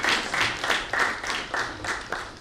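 Audience applause in the rhythmic form of steady, evenly spaced claps, welcoming a guest's inaugural address at a formal gathering, close and fairly loud over a short stretch.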